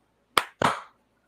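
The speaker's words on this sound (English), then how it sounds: "Okay, let's clap. 1, 2, 3." Two sharp, close hand claps about a quarter second apart, made by a small group of podcast hosts on a count of three, with silence before and after.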